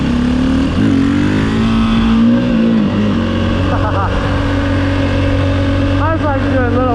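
A 2011 KTM 530 EXC dirt bike engine revs up and down close by, a loud buzzing drone with repeated throttle blips and swells over about seven seconds.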